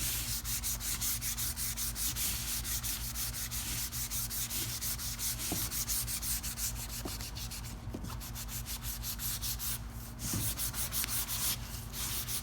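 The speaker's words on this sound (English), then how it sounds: "you're going to use is 150 grit sandpaper, and you're going to lightly sand it" 150-grit sandpaper rubs back and forth over wood molding by hand in quick, regular strokes, a close, scratchy hiss repeating steadily with a faint hum beneath.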